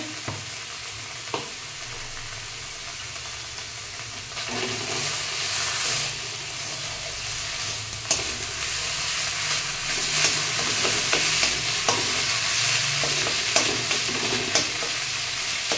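Gandal leaves stir-fried in a pan with a little turmeric and salt, a continuous sizzle with scraping stirs that grows louder partway through and carries on steadily, no voices.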